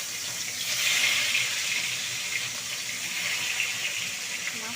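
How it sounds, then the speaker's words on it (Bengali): Catla fish sizzles in hot oil in a wok, a steady, bright frying hiss that swells briefly early on and then holds evenly to the end. "তেলটা গরম হয়ে গিয়েছে,"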